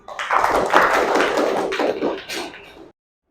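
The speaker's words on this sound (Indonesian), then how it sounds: "Tepuk tangan untuk Adisti" A classroom of students applauds a classmate with a short burst of clapping. It sounds close and fairly loud in a small room, swells and then tapers off, and stops abruptly before falling silent.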